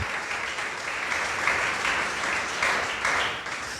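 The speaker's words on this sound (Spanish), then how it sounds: "Dele un fuerte aplauso al Señor." A church congregation applauds during a worship service, dense sustained clapping that swells and surges in waves, loud and close, with faint voices mixed in.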